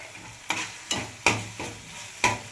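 Curry leaves dropped onto softened tomatoes frying in a pan, giving five evenly spaced, fairly loud scrapes or clacks of a spoon over a low continuous sizzle, with no speech.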